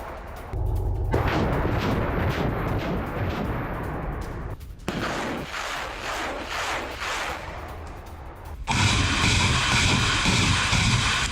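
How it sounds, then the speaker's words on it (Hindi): A Grad rocket launcher artillery attack on a Ukrainian army position in wartime, loud rumbling blasts and roaring salvos in long dense bursts, shifting into a harsh sustained roar near the end. "ग्रैड रॉकेट लॉन्चर से विध्वंसक हमला।"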